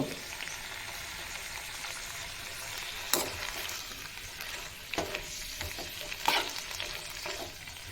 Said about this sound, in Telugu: ఇక్కడ చూడండి మాకు మొత్తం బాగా వేగిపోయింది